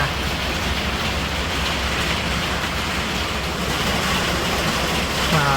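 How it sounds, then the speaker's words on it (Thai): Steady, broad rushing noise of heavy rain, with the low rumbling engine drone of a passing municipal garbage truck blended underneath throughout. "ผมได้ยินเสียงรถขยะนะครับ"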